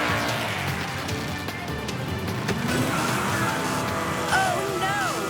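Cartoon race cars roar past in a steady, loud blur of engine noise, with whooshing and squealing effects toward the end.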